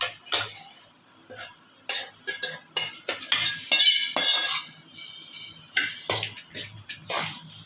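Scraping and clinking of a spoon against a metal vessel in repeated strokes, close and fairly loud, as dry flour is stirred for thattai snacks.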